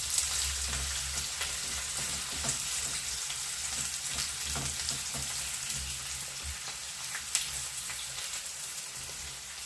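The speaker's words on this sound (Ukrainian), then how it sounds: "Олія повинна отак аж кипіти. Тому що нам потрібно цибульку не пропарити, а щоб вона аж карамелізувалася." Onions fry in boiling oil, sizzling steadily with a dense, even crackle that continues throughout with no voices.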